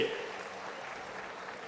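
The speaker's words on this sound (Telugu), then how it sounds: "చప్పట్లు కొట్టి మీరు కూడా అభినందించండి" Audience clapping at an outdoor public meeting in Chilakaluripeta addressed by Chief Minister Chandrababu, a broad steady patter of many hands, moderately distant and fairly quiet, sustained throughout with faint crowd murmur.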